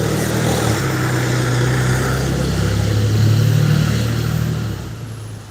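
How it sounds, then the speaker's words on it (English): A fire truck rolls past outdoors, its heavy engine rumble loud and close, rising then easing away over several seconds, with no talk during the pass. "there's a fire truck going by"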